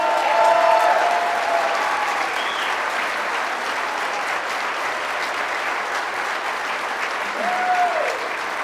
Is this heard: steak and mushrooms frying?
no